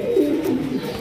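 Pigeons coo steadily at a pigeon farm, a low warbling murmur running through the whole moment at close range with no talking over it.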